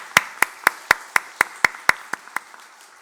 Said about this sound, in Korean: 자, 우리 큰 박수로 환영의 박수 보내도록 하겠습니다.